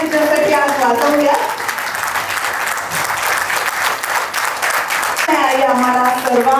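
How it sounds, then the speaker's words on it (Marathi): Loud, dense applause from a crowd giving a standing ovation at an 80th birthday celebration on Dhanteras, sustained for several seconds, with a voice speaking just before and after it. "जोरदार आपण टाळ्या तिच्यासाठी आज वाजवूया."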